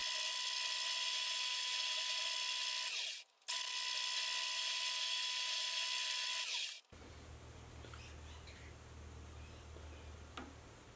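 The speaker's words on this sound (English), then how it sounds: "I can get the end turned down and add a taper at the end" A metal lathe turns down and tapers the end of a steel pin for a die holder, giving a steady high whining machine drone with a brief dip midway, then stopping abruptly into quieter shop room tone.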